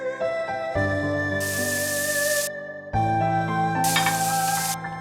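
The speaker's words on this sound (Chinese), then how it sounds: "放入姜末， 倒入蘑菇" Minced ginger and mushrooms frying in a pan with diced carrot, giving two bursts of hissing sizzle under steady background music.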